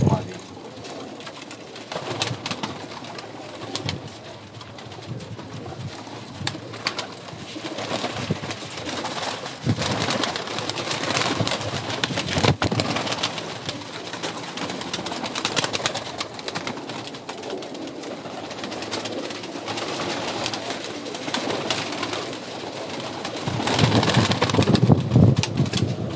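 Pigeons of a prized flying breed, a male and a female, coo repeatedly at close range over a steady bed of other birds, with occasional wing flutters and a person talking intermittently.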